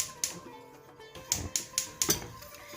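A gas stove burner is clicked alight beneath a pan of sugar syrup for Kalb El Louz: a quick run of about six sharp, close igniter ticks against faint kitchen background.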